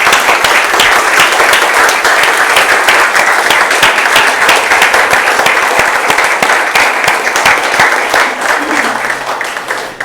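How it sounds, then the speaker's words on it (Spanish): A large congregation at a church service claps loudly and steadily for about ten seconds. The sound is a dense, sustained wash of hands that eases slightly toward the end. "Démosle un aplauso al Señor, hermano."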